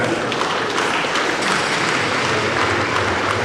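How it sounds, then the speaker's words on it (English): An audience at an anniversary ceremony for the Midwest referendum gives a round of applause, a loud, dense and unbroken clapping with a low hum of the hall beneath. "can I request another round of applause again for them?"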